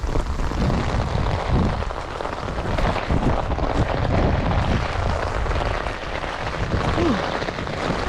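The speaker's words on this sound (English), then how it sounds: "it's still raining, as y'all hear" Steady rain falls outdoors around an estate sale, a dense, even hiss of drops on surfaces. It runs loud and unbroken throughout, with no talking.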